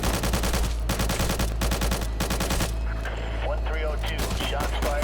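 Rapid sustained automatic gunfire in the VR video game Dark World Of Hatred, dense and loud at first, then giving way to scattered shots and a steady low rumble.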